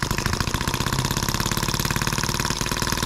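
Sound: scale model Atkinson engine M14 running

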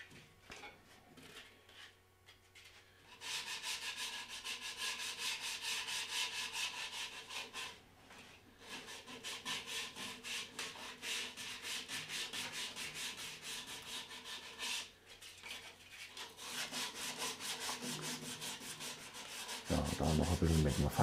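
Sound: sanding wood by hand with sandpaper

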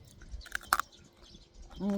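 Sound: crunchy snack being chewed

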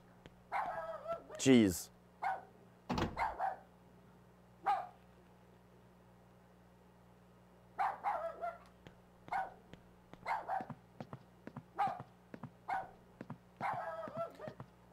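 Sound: dog barking in video game Rule of Rose

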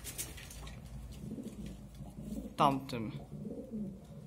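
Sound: homing pigeons cooing in a loft

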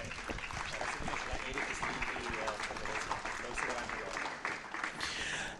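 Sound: audience applause

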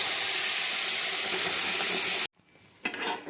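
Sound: banana paste added to hot ghee in pan

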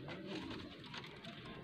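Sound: racing pigeon cooing

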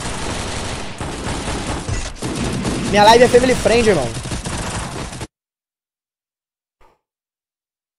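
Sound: gunfire in a video game

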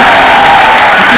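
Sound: audience applause

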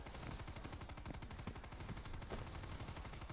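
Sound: gunfire shooting zombies in Dead Ops Arcade video game

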